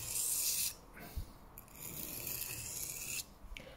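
A knife blade is drawn across a LIDL Parkside sharpening stone in rhythmic scraping strokes, a close, raspy hiss that stops and restarts between passes, quiet and alone.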